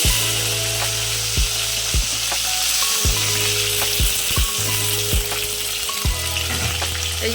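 Hilsa fish and eggplant pieces frying in hot oil in a home kitchen, a steady close sizzle broken by regular metallic clanks of a spatula roughly every half second to second, with no talking.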